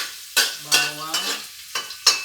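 Garlic hitting hot oil in a pan while squid is cooked, giving several short sizzling bursts close up, each one quickly fading.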